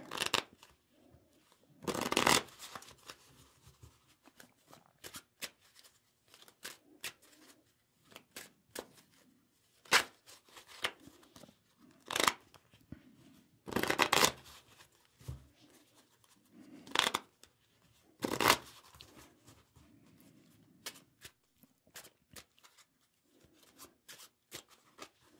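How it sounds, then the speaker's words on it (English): A deck of playing cards is shuffled for a Christmas solitaire game in a soft-spoken setting. Crisp riffling bursts come close up, repeated in irregular rounds with quiet pauses between them. "Let's shuffle them up real good."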